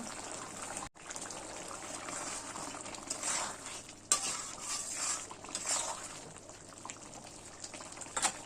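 Duck meat cooking in water in a covered pot, heard as a soft, continuous bubbling simmer with faint clinks of the pot and utensils, fairly quiet and close, with no voices.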